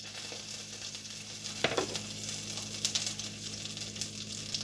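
Top sirloin steak sizzles steadily in a hot pan just after being flipped, a constant close frying hiss with a brief louder crackle near the middle and no talking.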